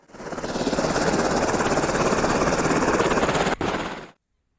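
Helicopter in GTA V played in VR, a steady loud rotor-and-engine drone with a rough pulsing texture, continuous for about four seconds before cutting off abruptly, with a brief dropout near the end.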